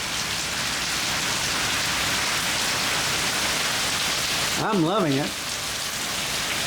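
Steady rain pours during a storm near Houston, a dense, even hiss that fills the whole clip, with a brief spoken voice rising over it near the end.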